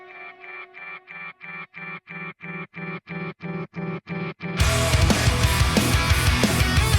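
A heavily distorted electric guitar plays a chugging progressive metal riff of evenly spaced chords that cut off sharply, then the full band crashes in loud and sustained.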